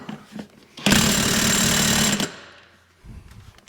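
A small DeWalt power tool, likely an impact wrench, strains against the rear wheel of an International Harvester 1086 tractor in one loud, steady burst lasting over a second, then cuts off, with quiet shop sounds before and after.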